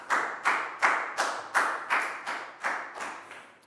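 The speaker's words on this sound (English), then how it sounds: "High five and a big round of applause for Net, please, guys." Nine or ten slow, evenly spaced hand claps ring out in a classroom during a Year 4 math lesson, each with a short echo, gradually softening.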